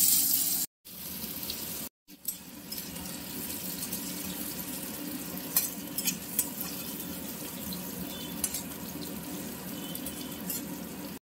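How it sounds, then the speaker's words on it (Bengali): Chopped onion sizzles in hot oil in a wok with dried chilli and nigella seeds, a steady loud hiss with small pops and scraping after two brief gaps. "এরপর দিয়ে দেওয়া হলো কুচনো পেঁয়াজ"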